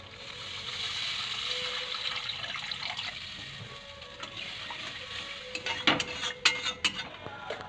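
Water poured from a vessel into a pan of pomfret fish curry masala, a steady close pouring wash with scattered clinks of pan and utensils toward the end.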